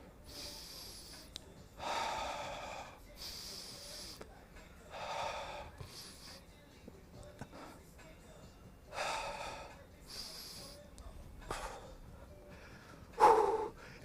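During a hollow body core exercise in a HIIT workout, someone breathes heavily, with loud rhythmic exhalations and gasps repeating every second or two, and a sharp final gasp near the end.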